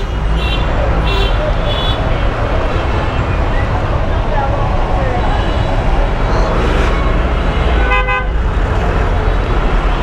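Car horns honk repeatedly in a dense traffic jam, loud and close, with short toots standing out over a constant roar of engines and road noise, while people talk nearby.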